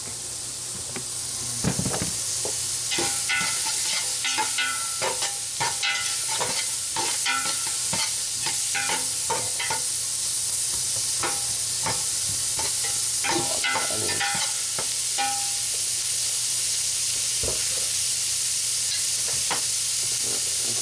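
Beef sears in a pot over heat with a strong continuous sizzle and hiss, broken by scattered knocks and scrapes of a utensil stirring against the pot, close and loud throughout.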